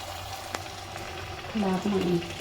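Besan-coated potato balls for vada pav sizzle in hot oil, a moderate steady frying hiss close by with a brief click, while a voice briefly sounds over it near the end.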